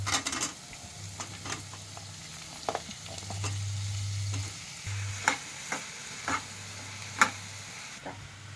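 Onions and tomatoes fry in butter for paneer butter masala, a steady close sizzle broken by several sharp scrapes and clicks of a utensil stirring the pan, with a low hum underneath.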